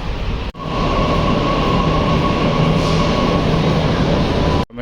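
A metro train passing near the Defence Colony flyover in Delhi fills the clip with a loud, continuous roar and a steady whine, cutting in abruptly and stopping just as suddenly.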